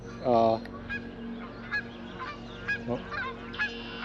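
Canada geese honk loudly in a burst near the start, followed by scattered single honks from a flock at moderate distance.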